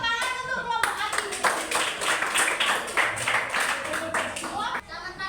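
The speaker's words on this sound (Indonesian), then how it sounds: "Tepuk tangan untuk kelompok Adi" Classroom applause from a group of fifth-grade students clapping for a student group, a dense steady burst of many hands lasting several seconds, with children's voices before and after.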